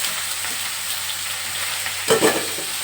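Pumpkin and Malabar spinach frying in a pan, a steady close sizzle, then a short burst of loud stirring and scraping near the end, no talking.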